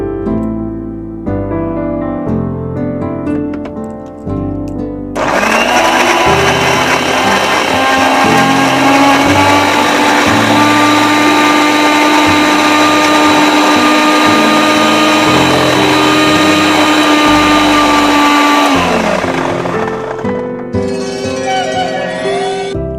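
An electric blender whirs loudly and steadily for about fourteen seconds while pureeing fruit, a high motor whine sitting over background music, with no talking.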